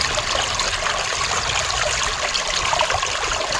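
Water rushing through a gold prospecting sluice box, a dense, steady close-up splashing and trickling flow with no pauses.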